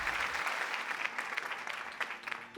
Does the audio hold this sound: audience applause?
yes